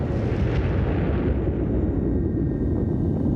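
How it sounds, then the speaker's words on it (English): Soviet H-bomb test explosion in the Kazakhstan desert: a sustained, heavy low rumble that stays loud throughout, with no distinct onset and no voices. "the first Soviet H-bomb exploded"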